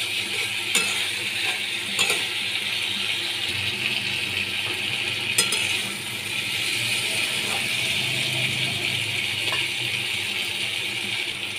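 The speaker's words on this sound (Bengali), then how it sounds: "মাছগুলো দিয়ে ভালো করে কষিয়ে নেব।" Fish frying in a pan with spices for a taro stem fish curry, a steady sizzle with occasional spatula clinks and scrapes as it is stirred, close and continuous, no voices.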